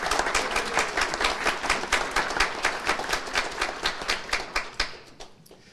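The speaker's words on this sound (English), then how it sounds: "How about another round of applause?" Applause at a community college commencement ceremony, a sustained crowd clapping with dense rhythmic claps that hold steady, then thin out and fade near the end.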